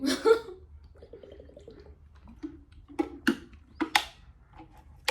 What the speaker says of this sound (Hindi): पानी पी लेती हूँ